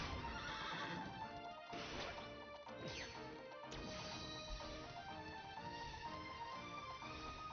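A horse in Dragon Quest XI neighs loudly and gallops with rapid clip-clop hooves, joined by crashing and thwacking impacts from a battle, all dense and continuous without any talk.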